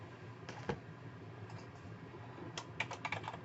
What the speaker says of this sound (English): you're going to want to type in your name here